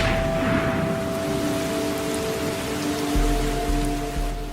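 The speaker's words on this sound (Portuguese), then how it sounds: "Cerca de 250 centímetros de chuva caem todos os anos." Steady rain falling in the Amazon rainforest, a dense continuous patter with soft low rumbling beneath and a few faint drips, with no voices present.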